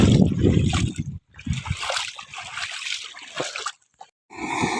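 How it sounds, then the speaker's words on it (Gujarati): Water gushes from a farm motor pump into a field, a loud splashing and sloshing stream that breaks off into brief pauses before surging again. "પાણીનો અવાજ આવતો હોય છે"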